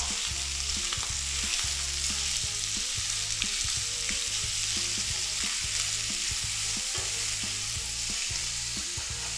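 Minced pork mixed with salted fish stir-frying in a pan, a loud constant sizzle with rhythmic scraping as a spatula breaks up the meat, close and with no talk.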